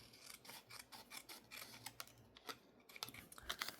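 Paper for a junk journal is trimmed with scissors, giving a run of soft, close snips and rubbing scrapes in an irregular rhythm, faint and with no voices.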